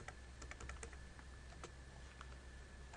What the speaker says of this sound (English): if I can type it in right